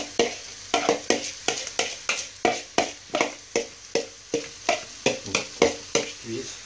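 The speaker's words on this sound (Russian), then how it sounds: "Перемешиваем и тушим. Выпариваем воду из него." Watery zucchini sizzles in a hot pan as it is stirred and stewed, a steady frying hiss broken by regular scraping strokes about twice a second, close up.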